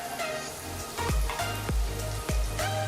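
Garlic dropped into hot oil for a vegetarian seekh kebab mixture, crackling in a steady close sizzle with several sharp bursts of spattering as pieces hit the pan.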